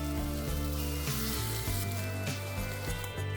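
Pad thai noodles with beansprouts and Chinese chives sizzle in a wok, a steady close frying hiss with crackles, heard alongside low background music with no talking.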